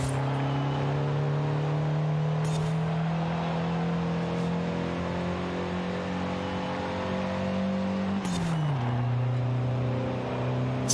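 1970 Datsun 510 with a sport exhaust in Forza Horizon 5, a loud steady engine drone held at constant revs, then a sudden shift around eight seconds drops the pitch as it continues alone without talk.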